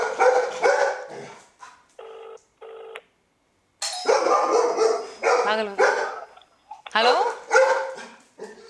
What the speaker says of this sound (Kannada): ನಾಯಿ ಬೊಗಳ್ತಾ ಇದೆ